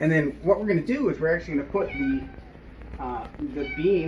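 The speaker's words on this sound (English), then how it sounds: "Oh, you can hear our kitties in the background." Pet cats meow repeatedly in a kitchen, their drawn-out cries rising and falling under a person talking about cooking chicken.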